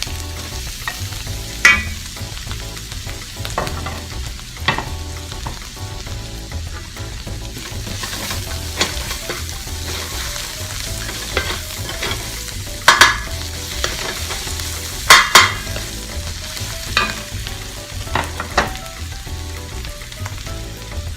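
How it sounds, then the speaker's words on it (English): Chopped garlic sizzles in a pan for tawa chicken while a utensil stirs and scrapes, sharp clinks of metal punctuating the steady frying throughout, close up with no talk. "And I'm also going to add my garlic."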